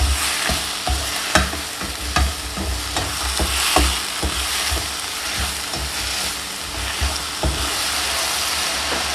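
Onion and grated tomato sautéing in a pan for egg masala, a continuous close sizzle broken by regular scraping strokes of a spoon and occasional knocks against the pan, with no voices.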